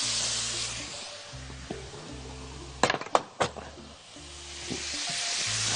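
Butter and flour for béchamel sizzle and fry in a pan, a continuous soft hiss broken by a few sharp clatters and stirring scrapes near the middle, with low background hum.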